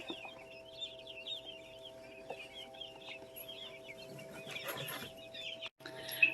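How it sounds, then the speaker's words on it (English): Baby quail chicks peep softly in a brooder, a steady scatter of faint high chirps over a low constant hum. "this is all the baby quail that hatched from round 2."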